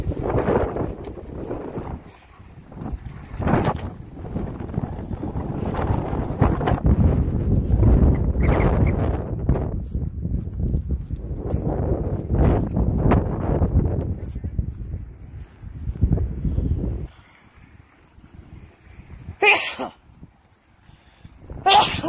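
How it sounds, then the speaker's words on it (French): Strong, violent wind buffets the microphone outdoors in long roaring gusts that rumble for most of the stretch, then drop off to quieter moments with brief knocks. "Fort le vent."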